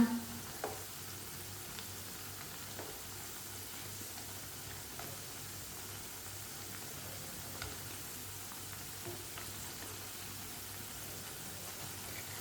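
Aloo palak pakoras fry in hot oil with a steady, continuous sizzle and faint crackles throughout, close and moderately loud, with no talking.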